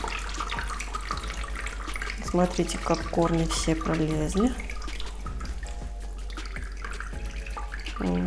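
Water trickles and drips from a peace lily pot set aside over its planter, a steady thin stream running beneath someone speaking close by.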